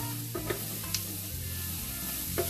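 An omelette mixture is stirred in a hot pan over high heat, with a steady soft sizzle running throughout and a few faint scraping clicks of the utensil, quiet and close, with no talk.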